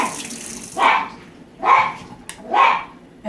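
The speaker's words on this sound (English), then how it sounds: "this is my dog Willow that you hear in the back because he got kicked out of the kitchen, so now he's having a fit" A dog shut out of a kitchen barks three times at a moderate distance, with the barks spaced fairly evenly, over the steady hiss of a running tap.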